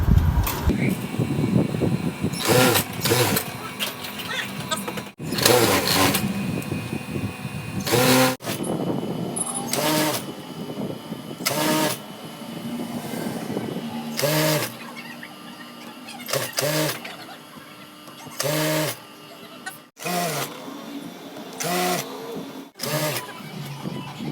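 A sewing machine stitching tape onto a curtain, running in repeated short bursts of rapid whirring with brief pauses between them, close by, with someone talking over parts of it.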